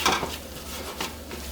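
A utensil stirs flour into vegetables in a pot, cooking them into a roux for lobster bisque; soft scraping strokes and light clinks come close and steady, with no talk.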